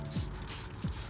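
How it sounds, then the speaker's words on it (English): Wheel and tire cleaner sprayed onto the rusty brake caliper of a Toyota Yaris, two short hissing bursts close to the listener, about a second apart. "We can spray it on the caliper itself."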